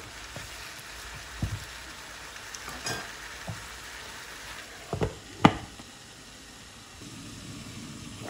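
Chicken pieces fry in a pan over heat just above medium, giving a soft continuous sizzle with occasional louder pops and spatters scattered across the stretch.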